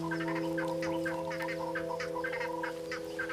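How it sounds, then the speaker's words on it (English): Crested guinea fowls calling from forest treetops around a yellowwood tree at dawn, a steady series of short, repeated clucking calls over a constant droning hum, with no talking. "As life in the forest wakes, the crested guinea fowls stir in the treetops all around the yellowwood."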